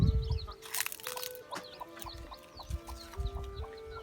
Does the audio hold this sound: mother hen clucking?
yes